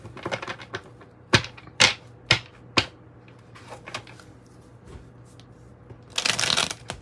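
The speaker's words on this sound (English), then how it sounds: "I'm going to pull from this 108 Oracle deck here." A 108-card oracle deck being shuffled nearby: several sharp riffling snaps, scattered softer card rustles, then a longer burst of shuffling at the end.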